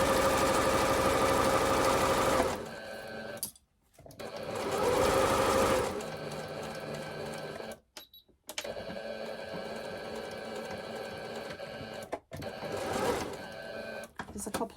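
A sewing machine stitches an apron in several runs of loud, steady mechanical whirring, with short stops and quieter gaps between them where faint handling noises can be heard.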